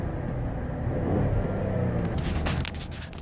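A car driving with a steady engine and road rumble, then a burst of scraping, clattering noises near the end as it makes a strange sound.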